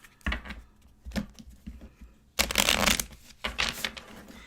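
Tarot cards being shuffled and drawn, quiet close-up riffling in several short bursts with a longer, fuller flurry midway, heard alone without speech.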